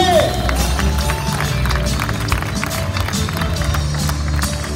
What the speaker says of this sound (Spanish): ¡Aplausos a la Virgen de Guadalupe!